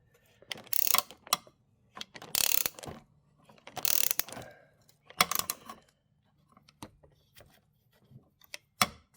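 A wrench retightens a stuck nut on a bolt, giving several short bursts of clicking ratchet strokes in separate groups, close and fairly quiet with brief pauses between them.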